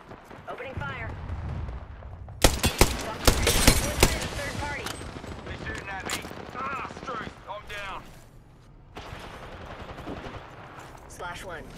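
Automatic weapons fire in the battle royale shooter Apex Legends: a dense burst of sharp, loud shots in quick succession, then scattered firing continuing under game character callouts and player voices.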